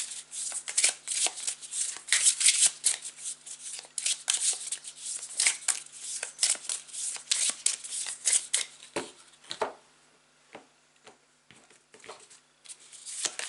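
Tarot cards being shuffled and dealt out, a steady run of close, crisp riffling and slapping card sounds, then sparser individual snaps as cards are laid down, with no talk.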